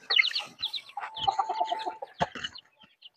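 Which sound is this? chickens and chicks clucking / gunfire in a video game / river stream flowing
chickens and chicks clucking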